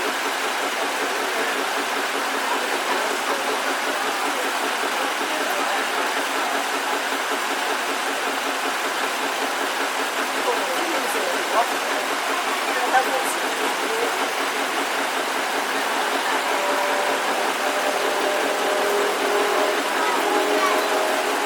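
A 1923 Detroit-built vintage tractor engine runs on trembler ignition at a veteran and vintage showground, giving off a steady, even running noise that neither rises nor fades for the whole stretch.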